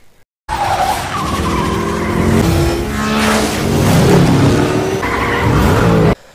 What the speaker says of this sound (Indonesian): saat aksi kejar-kejaran macam Fast Furious